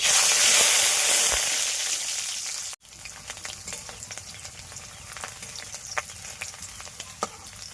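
Garlic frying in oil in a wok, a loud, steady sizzle up close that drops to a quieter crackle dotted with small pops and stirring clicks, with no voices.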